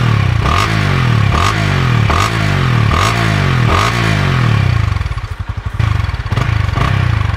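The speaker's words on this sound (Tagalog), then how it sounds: "Yan ang tunog ng Winner X." Honda Winner X motorcycle engine running loud and close, a throbbing idle with repeated revs rising and falling in regular bursts, easing off briefly before picking up again, no talking.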